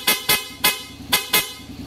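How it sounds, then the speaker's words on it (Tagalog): A PIAA aftermarket horn fitted to a Honda X-ADV 750 scooter sounds five short, loud, close beeps in an uneven rhythm, with no talking over them. "Yan, lutong ng pia horn natin."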